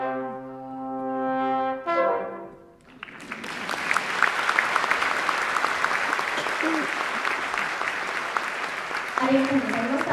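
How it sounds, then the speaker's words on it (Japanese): A Japan Self-Defense Force band's trombone ensemble holds its final sustained chord, then loud, dense audience applause erupts and continues steadily in a concert hall. "高山校音楽隊トロンボンバンドに今一度大きな拍手を"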